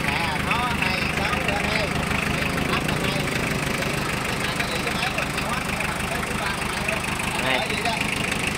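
A Kubota L2802 tractor engine runs at a steady idle with a constant rough rumble and knock, close by, while voices talk over it.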